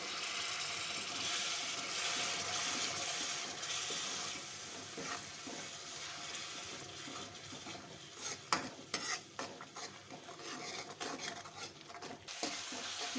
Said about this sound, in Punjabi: ਥੋੜਾ ਜਿਹਾ ਪਾਣੀ ਪਾ ਕੇ ਸਾਰੇ ਮਸਾਲਿਆਂ ਨੂੰ ਚੰਗੀ ਤਰ੍ਹਾਂ ਪਕਾ ਲਾਂਗੇ